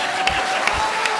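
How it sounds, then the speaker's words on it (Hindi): Studio audience clapping on a comedy show stage, a steady dense patter of applause with a few sharper peaks, fairly loud and with no talk over it. "जोरदार तालियां"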